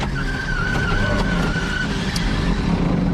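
A 1,300-horsepower Mercury Comet skids when its brakes fail in a crash, giving a long, loud tire squeal over a continuous engine roar, with no talking.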